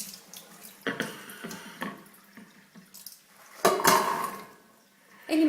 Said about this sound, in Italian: Adesso li risciacquiamo.